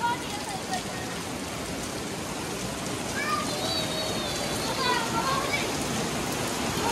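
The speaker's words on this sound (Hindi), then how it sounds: "ओ भाई जबरदस्त वाली बारिश हो रही है" Steady, heavy rain pours down continuously, a dense wash of hiss throughout with faint voices in the background.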